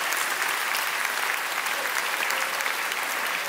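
A large festival crowd at a world cultures event applauds loudly and continuously, a dense sustained roar of clapping close and full throughout.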